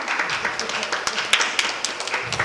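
A live audience at a 2020 performance event claps lightly and steadily at low intensity, a diffuse patter of scattered hands with a few sharper individual claps standing out.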